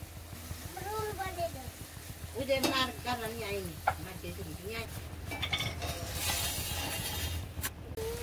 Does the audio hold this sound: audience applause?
no